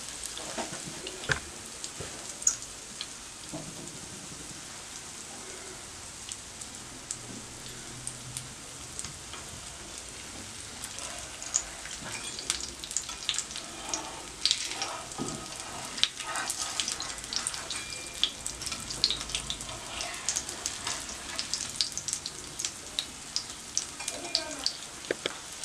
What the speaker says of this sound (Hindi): अब दरमियानी आंच पे इसको आप पकने दें।